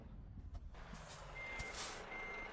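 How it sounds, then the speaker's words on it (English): A truck in Euro Truck Simulator 2 multiplayer moves off slowly with a low engine rumble, a steady warning beep sounding over it near the end. "My truck is slow starting off."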